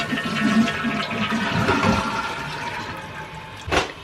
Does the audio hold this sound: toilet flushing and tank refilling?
yes